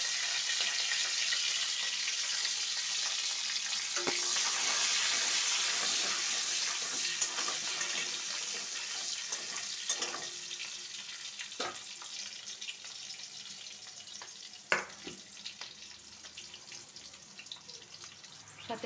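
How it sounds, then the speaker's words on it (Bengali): Chopped garlic and green chilli frying in oil in a wok, a steady close hiss of sizzling with occasional sharp crackles and spits, no voices over it. "এই কড়াইয়ে এবার আমি রসুন কুচি কুচি আর লঙ্কা কুচি দিয়ে দেবো।"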